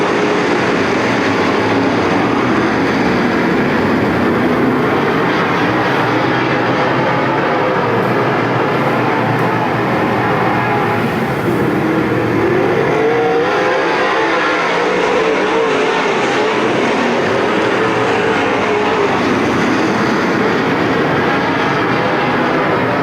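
A pack of late-model stock cars roars loud and continuous as the field comes up to speed on the restart, engines blending into a dense, sustained drone with no talk.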